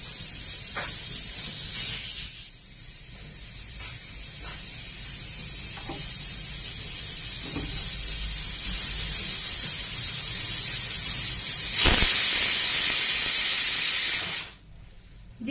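A pressure cooker whistle vents steam in a kitchen with a steady hiss that lasts over most of the span. It swells into a loud, sharp burst near the end before cutting off abruptly.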